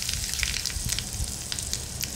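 Hot oil sizzling in a tempering of mustard seeds, cumin, asafoetida, curry leaves and two dried red chillies for uttapam chutney, a steady crackling hiss with scattered small pops, fairly quiet and close.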